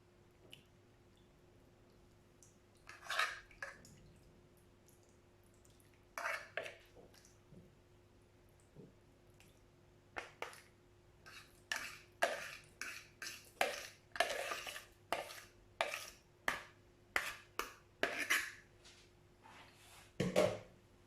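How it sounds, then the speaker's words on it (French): Wet squelching and dripping as a cream, milk, lardon and egg mixture is poured onto quiche lorraine pastry, coming in soft, irregular bursts that grow denser toward the end, close by with no talking. "je vais verser le mélange de crème, lait, lardons"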